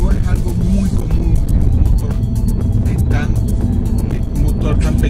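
A 2014 MINI Cooper with a small engine pulls hard on the outskirts of San Juan, Puerto Rico, giving a steady, loud road and engine drone under continuous talking.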